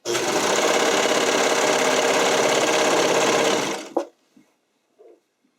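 A sewing machine stitches wide elastic onto spandex in one loud, steady whirring run of rapid needle strokes that stops abruptly, leaving near silence with a small clack.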